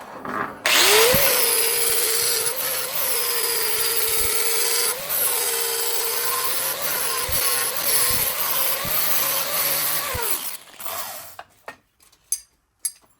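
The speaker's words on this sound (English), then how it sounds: "So now we're just going to put on a flap wheel, and we're going to smooth everything out" An air-powered flap wheel grinder smoothing welded joints on twin-turbo Mustang chargepipes, a loud continuous high whine for about ten seconds with slight dips as it bears on the metal, then spinning down to a few clanks.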